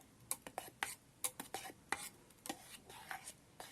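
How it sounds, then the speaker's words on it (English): Soupy oats being mixed inside an electric kettle, a spoon clinking and scraping against the metal in a quick, irregular series of sharp taps, fairly close and with no talking. "mix this nicely"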